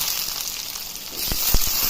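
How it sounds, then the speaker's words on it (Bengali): Squeezed, washed mushrooms going into a hot pan of fried chopped onions make a continuous sizzle that swells near the end, with a few sharp spits and crackles close by. "এবার জল চিপিয়ে মাশরুমগুলো দিয়ে দেবো।"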